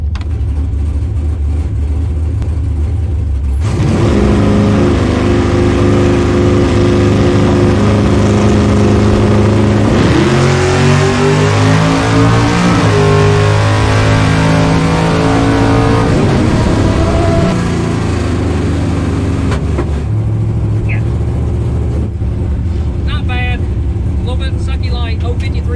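A drag race car at Tulsa Raceway Park roars close by for about sixteen seconds, its pitch sweeping up through the gears before the noise cuts off. Quieter engine hum is heard before and after.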